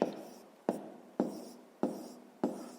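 A pen scratches across paper while working a fifth-grade maths exercise: five quiet, close strokes land at an even rhythm, each sharp onset trailing off into a soft scrape.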